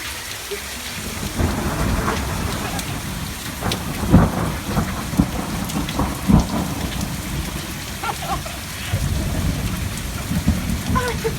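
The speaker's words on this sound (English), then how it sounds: "if it keeps storming, if it's still stormy" Heavy rain pours steadily on a campsite during a thunderstorm, with close thunder cracks and rumbles breaking through the constant hiss of the downpour.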